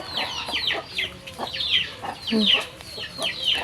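Several chickens cluck and squawk close by in a busy, overlapping chorus, with a brief murmur from a person.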